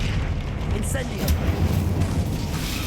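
The Incendio fire spell in Hogwarts Legacy lands as a roaring, booming burst followed by a crackling fiery rumble that holds for a few seconds, loud and close, with speech mixed in underneath.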